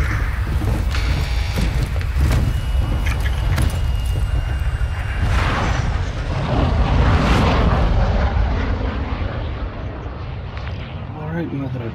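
Airplane flying in Call of Duty: Modern Warfare II, a loud, steady roar of engine and wind that stays constant throughout, with voices talking over it.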